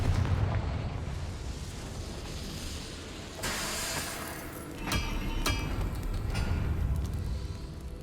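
A Confringo fire spell bursts in Hogwarts Legacy as a deep, rumbling explosion, followed by several sharp crackling blasts and a lingering roar.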